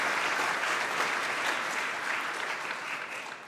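Conference audience applause during lightning talks at PyCon UK 2023, a full, even round of clapping from a crowd that tapers slightly toward the end.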